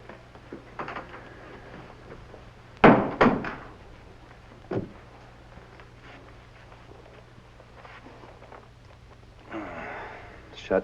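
A door in a back room swings shut with a heavy thunk and rattle, followed by a smaller knock, amid quiet room tone, faint movement and a few voices.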